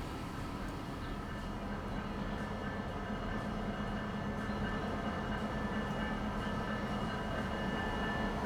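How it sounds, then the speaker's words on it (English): Trains rolling into a freight rail yard in the video game Transport Fever 2, a steady dense rumble of rail cars and wheels that holds unbroken throughout. "Just watch the trains come into the yard."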